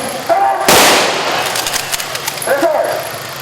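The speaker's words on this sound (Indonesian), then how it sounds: "Inilah tembakan peringatan yang dilakukan anti anarkis dari Brimob." A sharp, loud police warning gunshot cracks close by during an election security drill, followed by a quieter burst of rapid pops and shouting voices in a noisy crowd.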